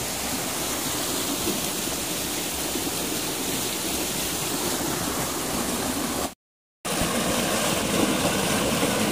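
A small mini waterfall in Lacub, Abra, steady broadband rushing of falling water close by, continuous and fairly loud for the whole stretch, with a brief full dropout near the end before the roar resumes.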